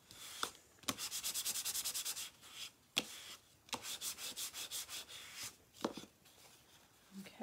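A bone folder burnishing a flat paper piece for a snowflake box gives dry rubbing strokes, quick rhythmic bursts of back-and-forth scraping between short pauses, close and fairly quiet.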